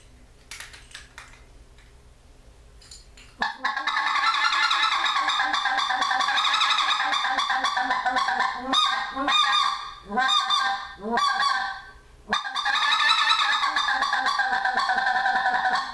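A man imitates a specklebelly goose call with his voice, a loud nasal honking that runs in long sustained bursts broken by short choppy yelps and brief pauses, close and alone.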